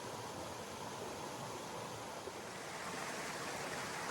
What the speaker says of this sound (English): Not a big waterfall, but very pretty.